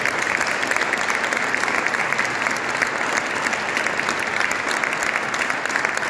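Audience applause for young choristers at a music trust launch, a sustained, uniform wash of clapping that stays level throughout.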